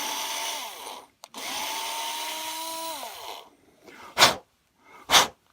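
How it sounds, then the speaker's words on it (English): A power drill fitted with a screwdriver bit whines steadily in two bursts, with a short break between them, as it grinds out wood in the cavity of a Telecaster-style guitar body. Two sharp scraping knocks follow the second burst. "what I'm doing over here right now with this drill bit and this screwdriver"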